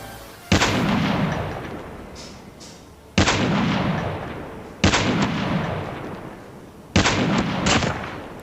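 Four separate loud gunshot blasts from Call of Duty Mobile, a solo-versus-duo match with sniper rifle shots, each a sharp crack trailing into a long booming decay, spaced a couple of seconds apart.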